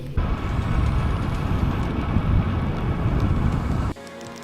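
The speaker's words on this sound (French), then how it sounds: "Et ça y est, la pluie arrive" Heavy rain pouring steadily outdoors during an ultra-distance cycling race across France, a dense continuous roar with wind noise on the microphone, cutting off abruptly near the end.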